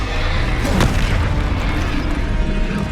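In the Hogwarts Legacy video game, a Confringo blasting spell bursts into a deep explosive boom that rumbles on under dense, continuous game sound.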